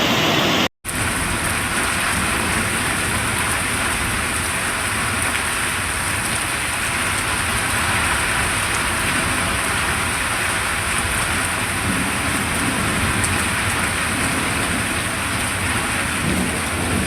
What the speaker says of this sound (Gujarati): ભારે પવન સાથે ધોધમાર કમોસમી વરસાદ ખાબક્યો હતો